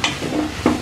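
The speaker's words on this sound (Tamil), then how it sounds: "இப்போ வந்து இது மசாலா கொஞ்சம் ரெண்டு நிமிஷம் வந்து வதக்கிடலாம்" Masala sizzling and being stirred in a pan for village-style fish curry, with a steady frying hiss and a couple of brief scraping stirs, close and alone.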